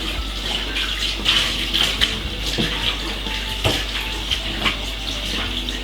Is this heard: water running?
yes